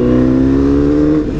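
Honda CBR 1000 RR Fireblade Repsol sport bike fitted with an SC exhaust tip, held at a steady high rev with a loud, buzzing engine note close by that dips slightly near the end, no talk.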